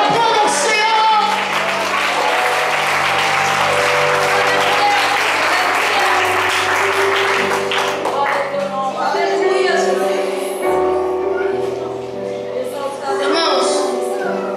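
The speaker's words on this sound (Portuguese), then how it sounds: "Aplauda o Senhor." A church congregation applauds during a worship service, steady dense clapping sustained over held organ-like music tones, with a voice speaking over it at times.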